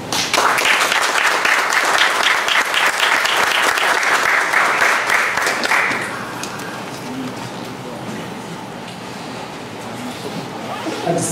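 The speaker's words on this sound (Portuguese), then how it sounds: "recebendo com uma salva de palmas, com todo o nosso carinho" Loud audience applause greets a guest lecturer at a Marxism and law talk, dense clapping for about six seconds before thinning into scattered claps and room murmur.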